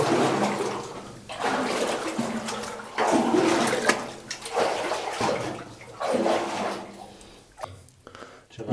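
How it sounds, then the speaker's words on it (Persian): A small trickle of water runs from an underground spring in South Khorasan, Iran, a soft steady splashing close by that swells and fades in waves. "یه مقدار خیلی کمی آب میاد"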